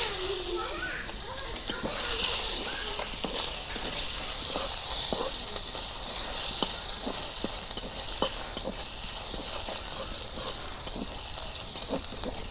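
Chopped onion frying in hot oil in a home Bangla kitchen pan, a steady bright sizzle lasting throughout with scattered stirring clicks and scrapes, close and moderately loud.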